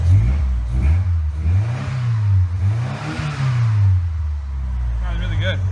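A Ford Mustang engine is revved up and down close by, its pitch climbing and falling in several smooth sweeps before it settles near idle, with voices faintly in the background.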